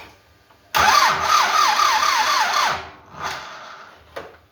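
A car engine with a badly discharged battery cranks over slowly in a steady rhythmic whir for about two seconds without catching, then gives a shorter second crank and a brief final burst, loud and close.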